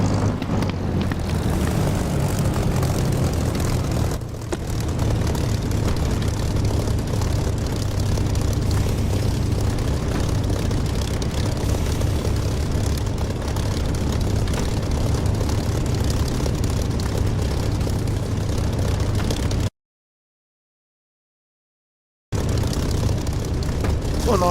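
In the DCS flight simulator, an aircraft engine roars loud and steady through a takeoff run. The drone holds nearly unchanged, then cuts out briefly near the end before resuming.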